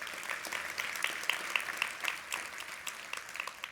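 Audience applause at the closing of a summit's stage presentations, a dense, steady wash of many hands clapping with a few sharper claps standing out, sustained throughout.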